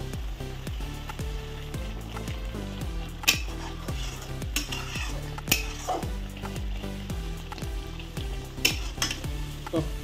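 Masala base for an Odia prawn and potato curry in coconut milk being stirred and fried in a pan, with repeated scraping strokes of a spoon against the metal, occasional sharp clinks and a steady sizzle underneath, close and fairly loud.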